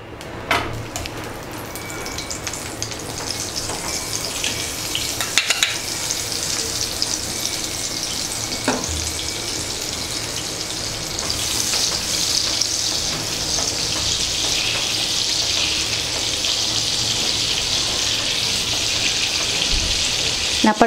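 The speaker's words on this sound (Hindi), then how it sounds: "थोड़ा सा ऑयल और बटर ऐड कर लेती हूँ मैं।" Oil and butter crackle and sizzle steadily in a hot kadai while preparing tandoori chicken, a dense continuous frying hiss that grows slightly stronger over time, with a few sharp pops and utensil knocks.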